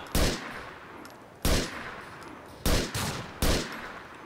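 Gunfire in the video game GTA IV: four sharp, loud shots spaced about a second apart, each with a long decaying reverberant tail, heard alone without speech.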